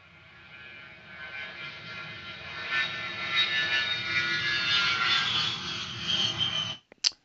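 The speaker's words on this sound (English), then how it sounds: "say we wanted to bring in a bit of audio, a sound effect for this particular aircraft here" An aircraft sound effect plays back from a video editor's mini player: a broad engine roar that swells and holds steady for several seconds, then cuts off abruptly with a brief click at the end, with no talking.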